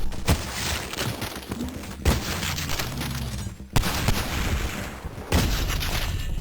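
Gunfire and enemy headshots in the retro-style first-person shooter Cultic, heard as a dense run of loud shots and crunchy impacts with sharp bursts at several points, without any voices.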